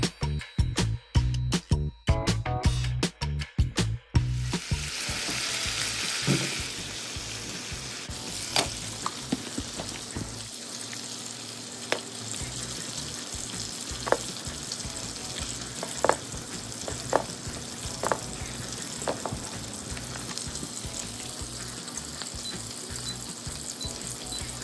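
Eggs fry in a pan with a steady, moderately loud sizzle, first broken by a run of sharp clatters and then marked by scattered pops and spatters under the continuous hiss.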